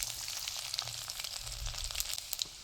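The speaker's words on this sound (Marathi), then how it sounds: "आता तेल टाकले मी त्याच्यामध्ये आपल्याला मोहरी टाकून घ्यायची एक चमचा आपण जिरे टाकणार आहे इथं बारीक चिरलेला लसूण आहे हा टाकून घ्यायचा आहे" Mustard seeds, cumin and finely chopped garlic hit hot oil for an upma, giving a close, steady hiss with scattered sharp pops and crackles throughout.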